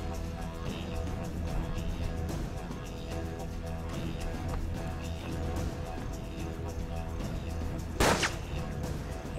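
Gunfire from the video game Hard West: a sharp single shot stands out near the end over a dense, steady bed of game sound, with a few softer shot-like bursts earlier.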